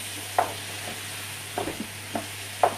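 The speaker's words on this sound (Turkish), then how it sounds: "Pirincim de güzel kavruldu. Bezelyemi de ekliyorum. İyi güzel karıştırıyoruz." Toasted rice and peas stirred in a pan for artichoke pilaf, a spoon scraping in a few separate strokes over a faint sizzle, quiet and close with no talking.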